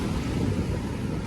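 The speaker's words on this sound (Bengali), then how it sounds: "সমুদ্রের এই গর্জন" Sea waves roaring at a hidden beach near Cox's Bazar, a dense continuous rumbling wash with wind buffeting the microphone.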